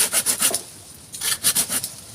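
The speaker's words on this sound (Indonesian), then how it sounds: "cuman pakai gergaji nih" A hand saw cuts through bonsai stock wood in steady back-and-forth strokes, a close rasping rhythm in two runs with a short pause between, no talking.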